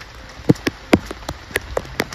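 Rain patters on a surface at Katal Batal in Jammu and Kashmir, with scattered distinct drops tapping irregularly over a soft steady hiss, close and fairly loud.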